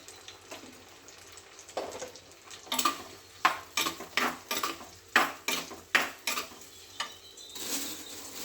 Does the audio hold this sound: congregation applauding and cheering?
no